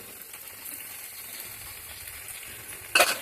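Garam masala being stirred into a fish-head and cabbage curry in a pan, a soft steady sizzle with faint scraping that ends in a brief louder clatter of the spoon.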